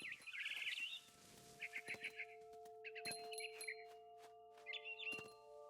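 Barn swallow chirping outside a window in the video game What Remains of Edith Finch: short bright twittering bursts come in several bunches over a steady musical drone, with a few soft thuds between them.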